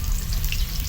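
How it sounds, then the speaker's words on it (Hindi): Eggplant slices fry on a tawa for a masala tawa fry, a close, continuous crackling sizzle of hot oil that lasts the whole brief moment. "देखिए, माशाल्लाह से हमारे जो बैंगन है अच्छे तरीके से फ्राई हो रहे हैं।"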